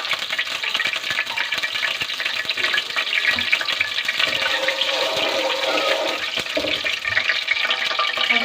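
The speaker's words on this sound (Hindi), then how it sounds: "इसको मैं तराड़ लूँगी अच्छे से ताकि इसकी आवाज़ें आ जाए और ये अच्छे से अंदर फ्राई हो जाए।" Whole cardamom crackling in hot ghee for sweet zarda rice, a steady dense sizzle and spatter close up, continuous throughout with no voices.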